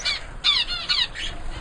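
Pet birds in an aviary give alarm calls, a series of about four harsh, scratchy squawks spaced a few tenths of a second apart, close and loud over a faint background hum.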